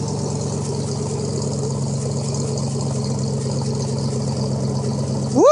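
A 1986 Ford F-150 with a Thrush glasspack exhaust idles low after a cold start in freezing weather, giving a steady, close, throbbing rumble that swells briefly into a quick rev at the end.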